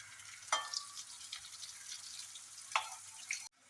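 Pieces of chena (elephant yam) fry in hot oil with a soft, steady sizzle, punctuated by a few quick scrapes and taps as they are turned in the pan.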